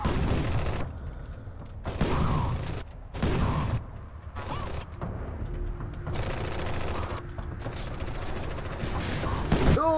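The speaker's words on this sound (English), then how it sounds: "We're going to shoot." Bursts of automatic gunfire with mechanical clanks in the tactical video game Strain Tactics, repeated loud volleys separated by short gaps, with a voice talking between them.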